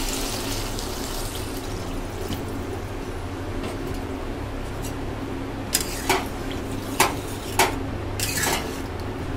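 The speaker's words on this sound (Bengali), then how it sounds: "এবার আমরা এতে পরিমাণ মতন জল দিয়ে দেবো।" Water is poured into a pot of Bengali fish curry with potatoes and drumsticks, giving a steady close stream and splash, followed by a few sharp clinks of metal utensils against the pot.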